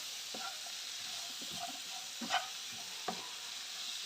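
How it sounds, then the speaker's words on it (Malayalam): Chopped raw mango is stirred into hot spices and asafoetida in a pan for pickle, a faint low sizzle with occasional soft scrapes and taps of the spoon, quiet and close, no one speaking. "ഇനി ഇതിലേക്ക് നമ്മൾ അരിഞ്ഞ് വെച്ചിരിക്കണം മാങ്ങ ഇട്ട് കൊടുക്കാം."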